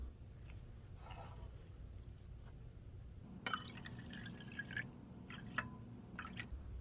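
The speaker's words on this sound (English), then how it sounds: "pour most of the water into your waste beaker" Water poured from a lab flask into a waste beaker: a faint, close trickle and splash with a few glassy drips and clinks, fairly quiet against a low room hum.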